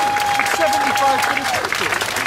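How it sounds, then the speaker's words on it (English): Round of applause from the audience at a business awards ceremony, sustained crowd clapping filling the hall from start to finish, with a steady tone running under the first part. "can we have a proper thank you round of applause for the council?"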